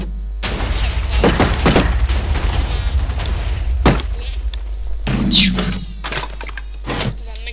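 Submachine gun fire in a video game: bursts of gunshots and thuds over a constant low hum, with a few louder booms, fairly close and loud, and some talk mixed in.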